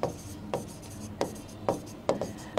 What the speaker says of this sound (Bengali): এটা হচ্ছে, একটু সাইডে লিখি, এটা হচ্ছে ডিম্বাণু।